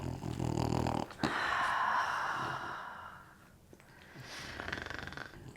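A dog snores and snorts at close range indoors, with a long rasping breath followed by quieter, wheezy exhalations.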